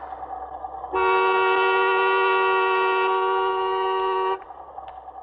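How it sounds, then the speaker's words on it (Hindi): A single sustained car horn blares loudly for about three and a half seconds against quiet background noise. "अरे देख क्या रहे हो, हॉर्न बजाओ ना।"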